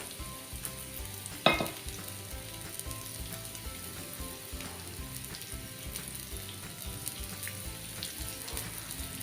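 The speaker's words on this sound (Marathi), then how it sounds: "आता एक दोन मिनटासाठी आपण ही कोलंबी आहे फ्राय करून घेऊया" Shrimp with garlic cloves frying in a pan for a spicy crispy starter, a steady close sizzle and crackle with one sharp clatter early on and light stirring throughout, no talk.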